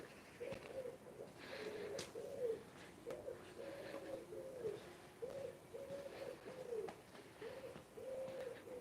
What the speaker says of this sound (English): Maybe you can hear the turtle doves.